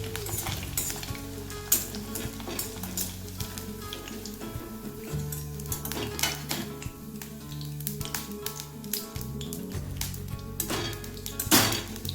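Chicken 65 pieces sizzle steadily in hot oil, a dense continuous frying hiss with occasional clinks of a utensil against the pan, close and loud throughout with no talking.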